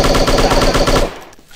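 Rapid automatic gunfire from the shooting video game Striker, a loud continuous burst of dense repeated shots that cuts off abruptly near the end, leaving quiet game ambience.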